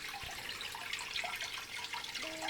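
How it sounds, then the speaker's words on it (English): Aquarium water gravity-feeds from a raised container through thin airline tubing into a small tank. A soft, steady trickle and gurgle runs continuously, with a faint tone entering near the end. "it just automatically gravity feeds the water"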